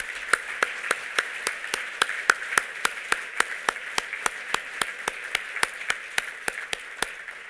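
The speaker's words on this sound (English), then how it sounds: "Another round of applause, guys. Come on." Steady rhythmic clapping, evenly spaced sharp claps, close and alone with no talk, sounding like a small group clapping in time rather than a large roaring crowd.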